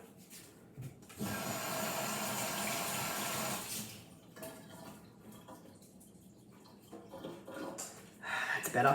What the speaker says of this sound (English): my hands are a little greasy, so I'm just going to wash my hands